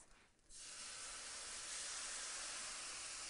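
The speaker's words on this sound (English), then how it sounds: "Let that sizzle" Beer poured into a hot brisket roasting pan bursts into a loud, steady sizzling hiss after a brief quiet moment, continuing close and unbroken to the end with no talking.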